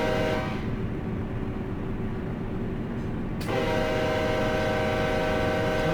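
In the Run 8 train simulator, a locomotive horn gives a short blast, falls silent while the train rumbles on, then sounds again with a long, sustained tone over the running engine.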